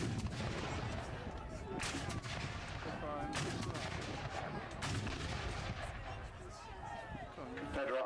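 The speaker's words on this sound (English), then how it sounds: "again the Union guns bark out" Union artillery guns fire at an American Civil War reenactment at Kirby Hall, with several sharp booms scattered through the passage over outdoor crowd noise while a commentator talks.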